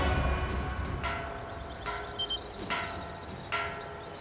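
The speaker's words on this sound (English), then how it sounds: "A warning bell." A warning bell tolls in Ys X during a naval assault on a fortress, four spaced metallic strokes ringing out over a steady low rumble of ship and sea ambience.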